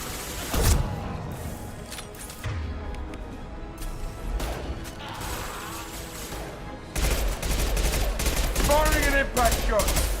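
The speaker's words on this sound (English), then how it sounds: "Firing an impact shot." Gunfire rattles in Mass Effect 2 as an impact shot is fired, heavy blasts and rapid volleys with loud sustained bursts near the end and a short sharp crack at the start.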